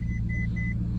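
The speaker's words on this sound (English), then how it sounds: "Start it up, turn the key all the way over, press the brake down there, and you start it." A 2011 Ferrari California sits running just after starting, its engine a steady, deep rumble heard up close, with a few faint electronic beeps over the idle.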